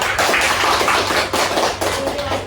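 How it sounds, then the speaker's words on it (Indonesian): Applause in a classroom during a microteaching lesson, a short burst of many hands clapping in a dense, uneven patter, moderately loud with no talking. "Tepuk tangan pada Islandia."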